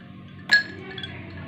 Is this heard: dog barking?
no